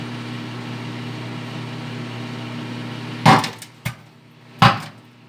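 Eggs explode inside a microwave oven that is running without its glass plate: two sharp, loud pops over a steady oven hum, with a small crackle between them.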